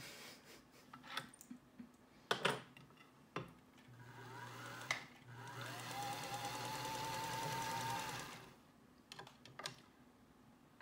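A Featherweight sewing machine motor runs with a new, thinner belt, a soft whirring hum that rises in pitch for about four seconds, with scattered clicks and handling knocks before and after; faint overall.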